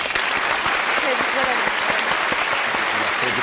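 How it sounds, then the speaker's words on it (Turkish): Big applause from a studio audience on the Turkish word game show Alfapetek: loud, continuous clapping throughout, with voices carrying over the top. "kocaman alkış"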